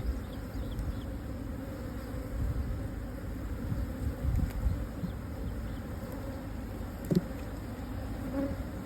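A freshly caught swarm of honey bees buzzes in a hive box, a continuous close drone with a few brief bumps and no voices.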